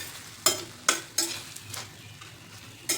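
Green chillies fry in a pan under a quiet sizzle while a few sharp, separate stirring scrapes of the spoon sound close by.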